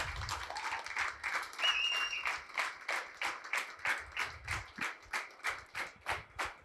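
An audience at a real estate team meeting claps for a speaker on stage, the applause at first dense and then settling into a slow, regular rhythmic clapping in unison, with some voices faintly in the crowd early on.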